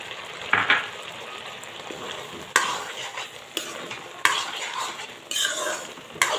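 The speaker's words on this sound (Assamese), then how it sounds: "ইলাচি পাউডাৰ দি মই এনেকৈ হালোৱাখিনি লৰাই হৈ গ'ল" Carrot halwa with cardamom powder is stirred in a pan, a spoon scraping and clinking against the metal in repeated strokes over a soft sizzle, close up with no voices.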